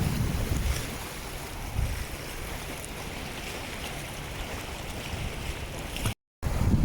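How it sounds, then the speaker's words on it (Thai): Sea waves wash steadily along the shore beside Issara Cape, a seaside cafe in Nakhon Si Thammarat, as a continuous broad roar mixed with wind buffeting the microphone, with no voices and a short silent gap near the end. "ชมนะครับบรรยากาศริมทะเลนะครับ"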